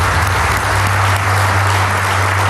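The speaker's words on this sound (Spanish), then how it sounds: "Y un aplauso para ustedes." A television studio audience breaks into steady, even applause, a dense wash of clapping heard on its own with no talk over it.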